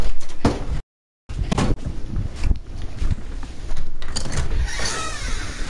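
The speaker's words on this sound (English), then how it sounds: "Let me go get the door." A house door is handled nearby with a couple of loud clunks and rattles, a brief dropout, then ongoing thuds and shuffling, no one talking.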